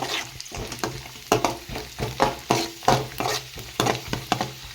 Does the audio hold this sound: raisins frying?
yes